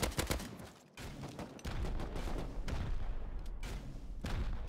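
Sustained heavy gunfire in the survival game Rust, with rapid overlapping shots and booming reports forming an almost continuous loud fusillade, close by and without speech.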